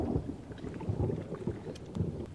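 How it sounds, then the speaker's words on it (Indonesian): Rain falling with rumbling thunder in a film scene, a soft steady patter under low, rolling booms that swell and fade. "Sampai akhirnya hujan pun turun"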